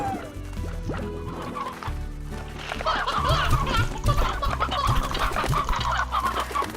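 Chickens cluck inside the video game Slime Rancher, with repeated short clucks scattered through a busy mix of game sounds and music, growing livelier in the second half.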